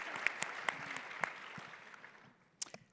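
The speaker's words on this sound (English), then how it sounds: "A round of applause for Linda on this first year as CEO." An audience applauds Linda Findley, president and CEO of Sleep Number, at a women-in-leadership event; the clapping is moderate and fades away after a couple of seconds, with a few stray claps at the end.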